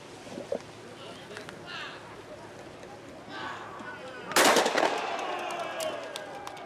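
A starting gun fires once at a skûtsje sailing race on open water at Earnewâld, a sharp loud crack with a short rumbling tail. Outdoor ambience and commentary voices run beneath it.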